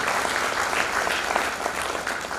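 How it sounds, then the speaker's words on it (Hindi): Brief burst of audience applause at a property project presentation, steady and fairly even, heard without any talk over it. "जोरदार तालियां एक बार life time free of cost project के लिए।"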